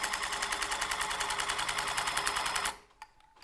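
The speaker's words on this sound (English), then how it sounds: "you actually turn around the tufting gun and you go down" A tufting gun fires rapidly through stretched fabric in a steady, loud mechanical burst for most of the clip, then cuts out, leaving a faint click or two.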